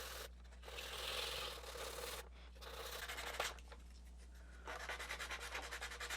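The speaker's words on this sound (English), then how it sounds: "just gonna do that for a while" Sandpaper rubs over a plastic Nerf blaster in bursts of scratchy, rasping strokes, close and fairly quiet, with short pauses between passes and a faster rhythmic run of strokes at the end.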